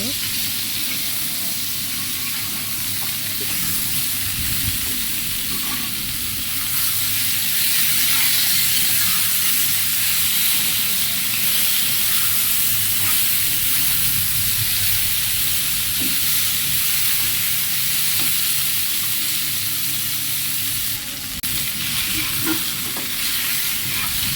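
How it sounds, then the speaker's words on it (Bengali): Eggplant fries in oil in a pan, giving a long, even, close sizzling hiss, with occasional soft stirring scrapes throughout and no clear voice over it. "বেগুনটা ভেজে নিব, বেগুনটা ভেজে নিব।"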